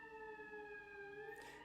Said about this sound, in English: It's a fire truck, really loud.